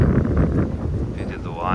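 Headwind rushing past while riding in a vehicle along the beach road at Adler, a close, steady, rumbling wind roar that buffets the microphone throughout.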